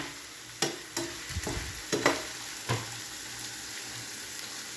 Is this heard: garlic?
yes